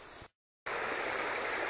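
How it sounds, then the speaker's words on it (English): Creek water flows in a steady, close rushing babble at a gold-mining spot, cut by a brief dropout of total silence before the continuous stream noise resumes. "I'm out here on the creek"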